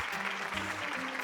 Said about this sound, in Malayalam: ഗുസ്തിക്കാർക്ക് നല്ലൊരു കൈയടി